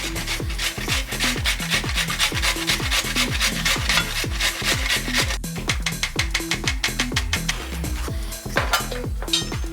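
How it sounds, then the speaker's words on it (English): Carrots rubbed against a grater in a kitchen, a steady run of rapid, even rasping strokes with soft woody scraping, loud and close, with no talk over it. "First, I'll wash, then peel and grate the carrots."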